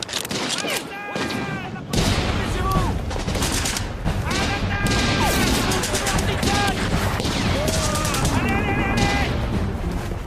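Gunfire in a war film battle, dense rapid rifle and machine-gun volleys with booms, loud and continuous, with shouting voices mixed into the chaos.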